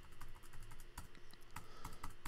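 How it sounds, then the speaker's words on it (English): Repeated key presses on a computer keyboard, the down arrow tapped in a steady run of crisp, close clicks, about a dozen over a couple of seconds, with no voices. "I'm just pressing the down arrow key on my keyboard."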